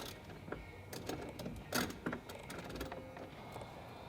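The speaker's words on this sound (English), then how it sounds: "you're going to go in here with your 10mm socket. There's going to be 4 bolts on the bracket for your screen" A 10mm socket wrench works the bolts on the screen bracket of a 2022+ Toyota Tundra, making quiet clicking ratchet and metallic tapping sounds in short irregular bursts close by.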